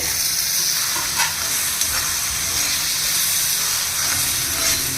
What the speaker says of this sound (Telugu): ఇదిగండి ఉల్లిపాయలు వేగిపోయినాయి